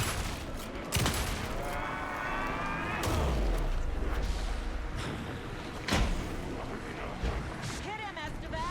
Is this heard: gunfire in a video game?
yes